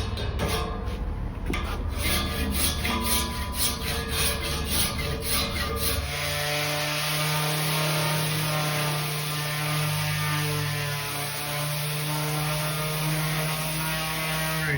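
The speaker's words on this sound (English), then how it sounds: "To smooth out the joints, I'm just gonna use the good old surf form cheese grater and" Surform rasp and sandpaper smoothing the joints of a wooden industrial-style console table: steady scraping and rubbing strokes, fairly close, with a low mains hum under the second half and no talking.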